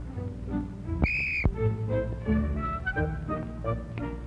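A single sharp whistle blast, blown as a signal to stop, lasting about half a second, loud and clear over a low rumbling background with no talk.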